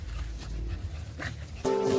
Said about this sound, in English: My two Pomeranian dogs, Tyra and Ivana and Tyra.